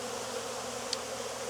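Honey bees swarm over an open hive during a Demaree split in Jacksonville, Florida, making a dense, continuous buzzing drone close up, steady throughout with no speech.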